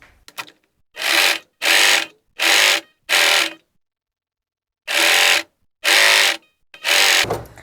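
Sewing machine stitching a draped skirt hem in loud, even bursts of rapid mechanical whirring, four runs of about half a second each, a pause, then three more runs.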